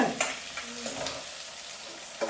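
Onion and green chili fry in a pan, a moderate sizzle broken by a few scraping stirs and light clatter, close and brief with no talk.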